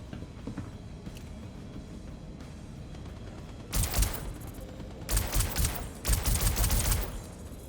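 A gun fires in the sci-fi game Star Citizen. Quiet ambience gives way to several loud bursts of rapid shots in clustered volleys through the second half, and no one speaks.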